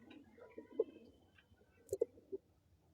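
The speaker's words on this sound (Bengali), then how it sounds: "তো পায়রাগুলো কতটা অ্যাক্টিভ সেটা তুমি দেখলেই বুঝতে পারবে" Pigeons of several named racing lines kept in a loft, giving a few soft low coos and short calls close by, scattered across a quiet background without talk.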